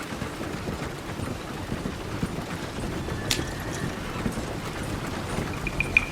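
Horse hooves clip-clop in a steady, even rhythm in Red Dead Redemption II, close and continuous with faint creaks of tack and a few sharp clicks near the end.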